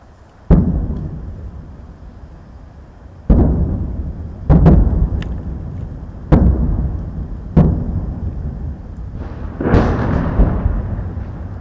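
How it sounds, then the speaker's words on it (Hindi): Artillery shelling near the Line of Control during India–Pakistan cross-border fire: about six heavy, deep booms at uneven intervals, each followed by a long rumbling decay, with no voices. "ये उस शेलिंग की आवाज़ है"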